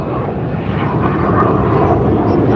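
An F-22 fighter jet roars overhead near Waikiki in Hawaii, a loud, dense, broad engine rumble that stays steady through the short moment.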